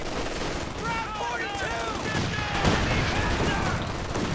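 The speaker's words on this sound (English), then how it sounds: "A lot of bazookas connecting and the anti-tank gun." Rapid bursts of bazooka fire and an anti-tank gun in a Company of Heroes 2 1v1 match, overlapping explosions and gunfire crackling steadily under a dense, busy battle soundscape.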